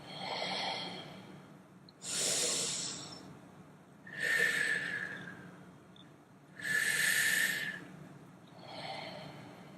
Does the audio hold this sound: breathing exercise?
yes